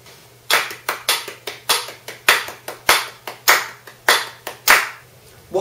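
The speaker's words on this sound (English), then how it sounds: "every beat breaks down into three, so that every beat gets three claps" Crisp hand claps grouped in threes to each beat, ringing sharply in a small room, close and loud, with short gaps between the groups and a faint background hum.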